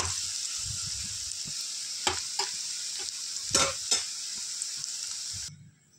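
Onion frying in a pan over a medium flame for a chicken bhaji, giving a loud, steady sizzle broken by several scraping stirs before it cuts off abruptly near the end.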